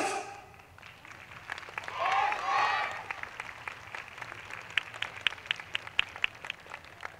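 An audience at the Hitachi-no-kuni YOSAKOI festival main stage applauds, swelling midway with cheering voices and then thinning into scattered, sharper individual claps.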